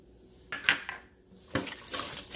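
Baby octopus kneaded by hand with salt and flour in a bowl gives two short bursts of wet squelching and clattering, close and fairly quiet, with a pause between them and no talk.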